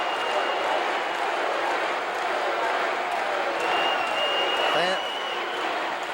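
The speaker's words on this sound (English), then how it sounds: "Fans are roaring for Duggan." A large indoor professional wrestling crowd roars and cheers continuously, a dense wash of noise that swells slightly near the end.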